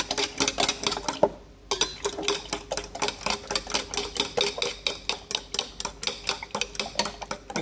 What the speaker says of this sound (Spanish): así es como batimos nuestros huevos